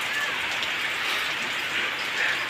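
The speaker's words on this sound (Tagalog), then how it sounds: "Biglang bumuhos yung ulan." Heavy rain pouring down in a sudden downpour, a steady, dense, loud hiss of drops hitting surfaces that stays constant throughout with no talk.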